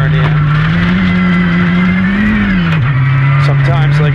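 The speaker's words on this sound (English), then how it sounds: "So we'd come in and we'd brake hard and shift down and turn in." A rally car engine drones loudly and close with a steady tone that rises, then dips sharply as the car brakes and downshifts before pulling on again, with a voice faintly underneath.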